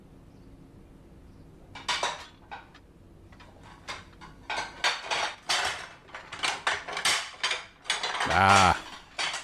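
Dirty dishes stacked in a precarious pile clatter and clink in repeated bursts, building to a louder rattling crash near the end, with a brief voice at the start.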